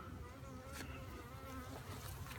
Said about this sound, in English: I don't know if you can hear that bee.